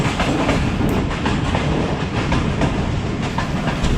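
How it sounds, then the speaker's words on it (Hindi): Allama Iqbal Express train rolling through a green countryside station at about 30 km/h, with a steady close rumble and rhythmic clickety-clack of wheels over rail joints, loud and continuous with no voices. "इसी दौरान ट्रेन डुमाला की खूबसूरत और पुरसकून हरे भरे स्टेशन से थ्रू पास कर रही है।"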